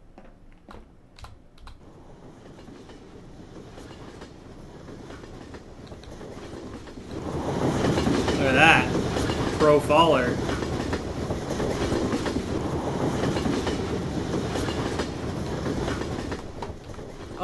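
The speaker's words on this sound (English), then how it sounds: "Mega's using the train as the thing to travel the distance" A video game train rolls along rails with a building rumble and rhythmic clickety-clack, mixed with close keyboard typing while someone talks briefly over it.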